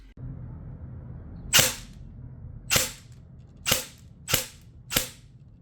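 An airsoft AEG with spacers added to its spring fires five sharp single shots, close and crisp, spaced roughly a second apart over a quiet background hum.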